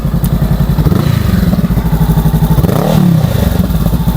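A 2023 Honda Rebel 500 motorcycle runs close and loud with a rapid pulsing exhaust note, and a light metallic rattle from the exhaust clatters through the steady engine throb. The engine swells slightly twice.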